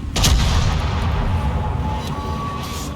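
Heavy naval gunfire from warship guns, with HMS Bellerophon in World of Warships: a loud booming blast early on, then sustained rumbling rolling under the battle noise for the rest of the moment.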